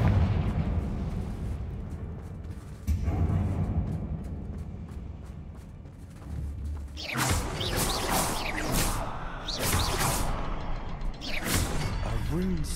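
Fire spell Confringo cast in Hogwarts Legacy, a series of bursting whooshes and crackling blasts after a quieter stretch, mid-distance and fairly loud over rumbling game ambience.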